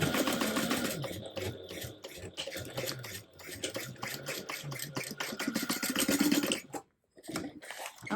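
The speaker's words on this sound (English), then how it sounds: "I'm going to stitch in place with a 3/8 inch seam allowance" A sewing machine stitches a pouch seam at a 3/8 inch seam allowance, a fast rattling run of needle strokes in short bursts with brief pauses, close and moderately loud.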